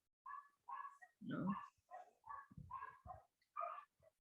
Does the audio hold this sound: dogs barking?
yes